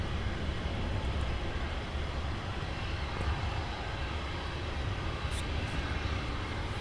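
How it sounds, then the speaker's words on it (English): A business jet taxiing at Luton Airport, a steady low broadband roar holding at constant loudness throughout, with no talk over it. "Another Bizjet taxiing down."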